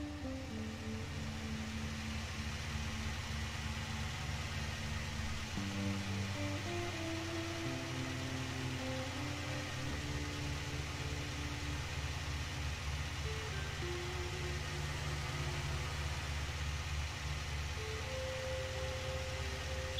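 A steady, loud engine drone from a car driving in the SnowRunner video game, fitted with a Don 71 rally vehicle engine. It holds a constant hum with small shifts in pitch for the whole stretch, with no talk.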